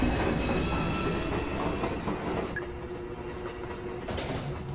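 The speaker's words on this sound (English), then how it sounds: "There is a Downtown Express 2 train approaching the station." A New York City subway 2 train, Downtown Express, pulls into the station: a sustained rumble of wheels on rails with metallic squealing tones, slowly easing off as the train slows. No speech is heard.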